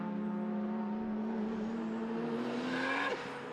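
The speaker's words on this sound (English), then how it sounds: "You can hear through our microphones out on track the turbo whistle of that car." A straight-six race car runs at Winton during a historic motor racing round, its engine note rising steadily with a clear turbo whistle riding above it, close and loud, before it swells and briefly drops away.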